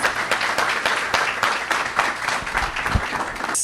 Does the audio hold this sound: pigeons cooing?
no